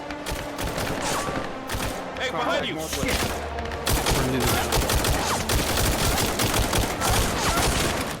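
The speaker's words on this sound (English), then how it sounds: "This is new distant gunshot sounds" Bursts of rapid gunfire in a video game crackle and pop in a steady barrage, somewhat muffled and distant, on a trench map, while a voice briefly shouts over it.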